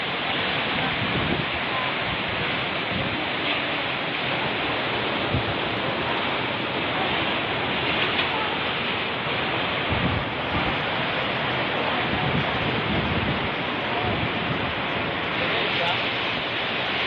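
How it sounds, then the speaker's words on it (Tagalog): Deep, fast floodwater in Albay and Sorsogon roars with a dense, constant rush that stays loud and unbroken throughout. "Sobrang baha. Sobrang lakas, sobrang lalim na."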